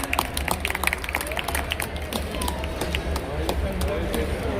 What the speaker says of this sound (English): Everybody, please clap your hand.